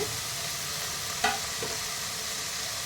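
Onion greens are stirred and mixed in a hot pan, a steady low sizzle with one sharp scrape of the spoon and a softer clink after it, no voices.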